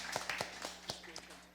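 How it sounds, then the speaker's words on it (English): A few scattered claps ring out for a school team at the Antigua and Barbuda Junior Science Quiz, brief sharp hits spread over little more than a second, quiet and sparse rather than full applause. "You can give them a round of applause."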